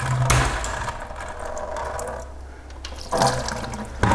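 Water gushes and splashes steadily into a bucket as it drains from a Nissan Titan truck during torque converter removal, with louder rushing bursts at the start and again near the end.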